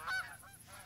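Geese honk while landing in the hunting game theHunter: Call of the Wild, one clear nasal honk followed by fainter honks from the flock, moderately distant.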